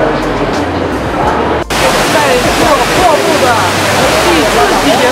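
Rushing, roaring water from the large indoor waterfall at Jewel Changi Airport in Singapore, a steady dense wash close by with a brief dip before continuing unbroken.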